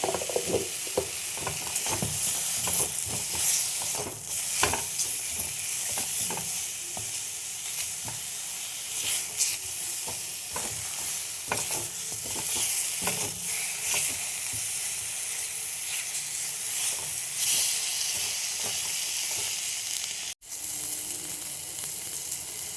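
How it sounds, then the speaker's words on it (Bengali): Eggplant slices sprinkled with turmeric fry in oil in a pan, a continuous loud sizzle broken by repeated scraping stirs and clicks of the spatula, carrying on alone for over twenty seconds with a brief drop-out near the end. "এইভাবে বেগুনগুলো আমি ভেজে তুলে নেব।"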